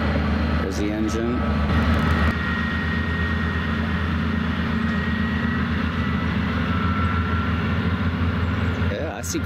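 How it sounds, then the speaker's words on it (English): Tourist railroad train rolling past along a creek bank, a sustained low rumble and drone with a steady mechanical hum, close and loud, a brief squeal early on and someone talking over it. "This is a tourist railroad that runs along the bank here."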